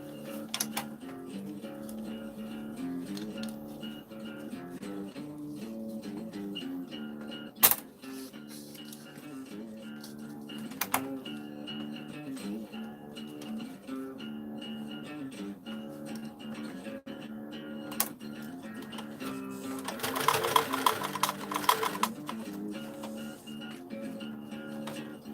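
A sewing machine runs a zigzag stitch, giving a soft, even mechanical whir and rhythmic ticking at close range, with a few sharp clicks and a brief louder rattle near the end.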